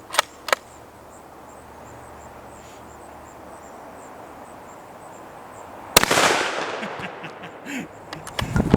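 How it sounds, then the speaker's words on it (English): A Savage Axis II .22-250 rifle fires at a 2-liter bottle, a single sharp, loud crack that cuts through a quiet outdoor background, followed by a short rumbling echo and a few faint knocks. "Those little bullets sure blow up those 2-liters good, don't they?"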